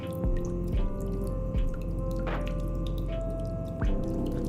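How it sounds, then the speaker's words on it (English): Water drips from leaky pipes in a basement, with a few scattered drips sounding over a steady low tonal hum and room noise. "What's the water we're hearing? Oh, that's just the leaky pipes."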